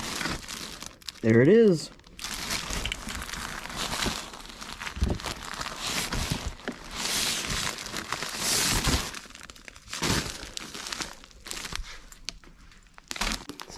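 Crinkling and rustling of a padded flat rate mailing envelope being handled while a Ford Mustang hoodie is pulled out, with brief crackles and a voice speaking over the handling.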